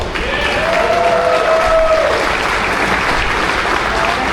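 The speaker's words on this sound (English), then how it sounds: "Give him a nice round of applause." Warm audience applause for an Indian Motorcycle speaker at a Jack Daniel's motorcycle ride event in Lynchburg, Tennessee, loud and continuous, with a faint whistle-like tone early on.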